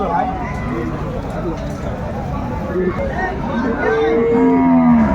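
Cattle moo amid a noisy crowd at the Aftabganj cattle market, a long low bellow rising near the end over constant chatter and bustle.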